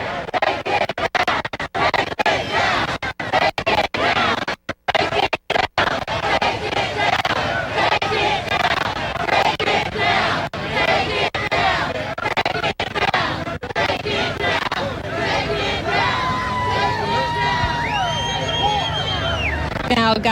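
A protest crowd outside the State House chants "take it down" in a dense, continuous roar of massed voices, with rough wind and handling noise over it and brief dropouts early on.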